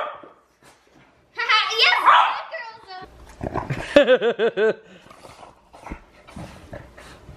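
A dog barks in a home setting, a quick run of several loud, close barks in the middle of the clip, surrounded by people talking and a voice.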